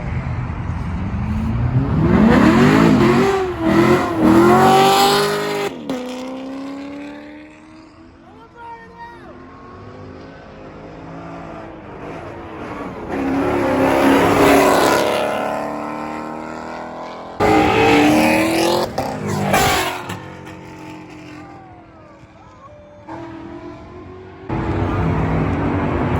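A pack of cars pulls out of a Sunday morning car meet, engines revving and accelerating in loud bursts that swell and fade as they pass nearby, with people talking over the noise.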